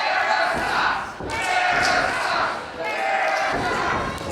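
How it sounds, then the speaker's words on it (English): A wrestler is driven head-first into the ring with a DDT at an HCW wrestling event, a heavy thud amid a loud, continuous crowd roar and chanting, with commentary voices running throughout. "Johnny Faith reversing into a DDT. Landed him right on his head."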